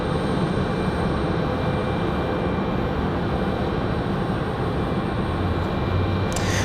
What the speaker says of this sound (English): As we get ready for the departure of Delta 2052 back to Atlanta.